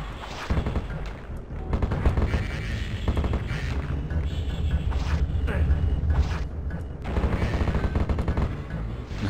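An automatic weapon in Heretic fires continuously in rapid, dense bursts of shots for several seconds, loud and mechanical, with brief gaps between the stretches of fire.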